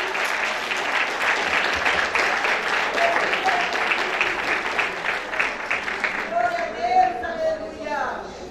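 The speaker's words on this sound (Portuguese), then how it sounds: "Aplauda o Senhor bem forte." Church congregation applauding loudly and steadily at an evening anniversary service, with dense sustained clapping that fades slightly near the end as a voice and music begin to emerge.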